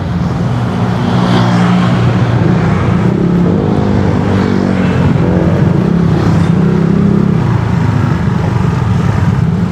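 Loud, steady road traffic on a street under repair, with car engines droning and revving as vehicles pass close by, continuing without a break and with no talking.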